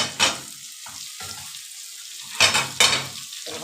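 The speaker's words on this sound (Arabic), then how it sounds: "خلاص كده انا هشوحها كده، عشان انا ايه اللحمه دي هتستوي بسرعه" Meat sautéed in a pot for Egyptian green beans with meat, with a hissing sizzle and a few loud scraping stirs, close by and with no voices.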